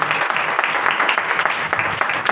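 Dense, continuous applause from a sizable audience, many hands clapping at once without pause.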